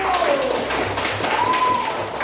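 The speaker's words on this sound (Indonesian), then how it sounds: "tepuk tangan untuk Bapak satu" A burst of clapping from a small group in an elementary school coding class, fairly dense and steady, with a faint tone sliding in the background.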